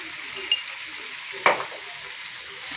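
Brinjal and dry fish curry cooking in a pan, a steady loud sizzle with two sharp spoon clinks against the pan as it is stirred.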